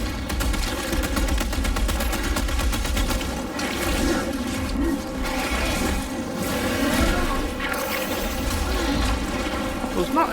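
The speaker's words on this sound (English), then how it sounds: "Light frag grenade." Dense, continuous gunfire and blasts from a frag grenade battle in Space Marine 2, a loud, rumbling barrage of rapid shots with heavy low booms, with a voice talking at points.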